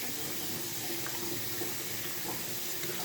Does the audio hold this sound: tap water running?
yes